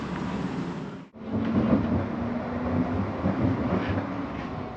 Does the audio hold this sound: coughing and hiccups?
no